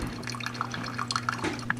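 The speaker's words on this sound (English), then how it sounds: "so the coffee's brewing" A Ninja Coffee Bar brews coffee, with a steady run of distinct drips falling at an irregular pace over a low, constant machine hum, close by and fairly quiet with no talking.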